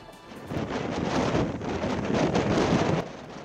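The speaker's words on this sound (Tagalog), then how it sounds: "Malakas na hangin sa Santa Ana, Cagayan, humahampas na rin ng malalaking alon" Strong typhoon wind in Santa Ana, Cagayan, buffets the microphone in a loud, rushing roar that swells and holds for a few seconds before easing.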